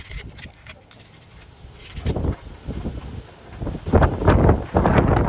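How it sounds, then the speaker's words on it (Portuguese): Strong gusts buffet the microphone outdoors during a rear-wheel bearing job on a Honda CBX 250 Twister motorcycle at home, low rumbling bursts that swell louder toward the end, with no talk. "A ventania danada."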